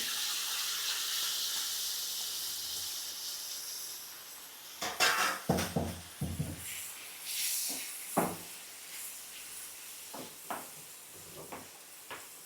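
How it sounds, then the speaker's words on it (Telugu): Onions and green chilies are tipped into a hot pan and stirred, giving a steady hiss that turns into a series of sharp spoon-against-pan scrapes and clatters, close and fairly loud, with no talking. "పక్కన కట్ చేసి పెట్టుకున్నటువంటి ఉల్లిపాయలు అలాగే పచ్చిమిరపకాయలు వేసేసుకుందాం. వేసుకొని శుభ్రంగా కలుపుకోవాలండి."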